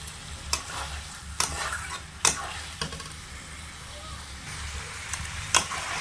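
Meat sautés in a pan over a gas stove, with sharp stirring scrapes every second or so over a low, steady sizzle, close and fairly loud, with no talking.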